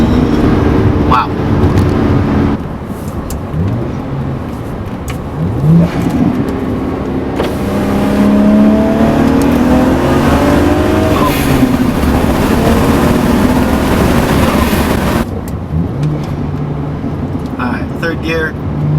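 BMW 335i with the N54 engine pulling hard under acceleration, a loud sustained rising engine note sweeping up through the gears with brief shift dips, heard from inside the car with a person talking over it.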